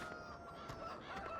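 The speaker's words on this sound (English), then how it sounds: "Chickens." Chickens cluck softly in the farming video game Farming Simulator 17, a faint, brief run of poultry sounds heard alone with no talking.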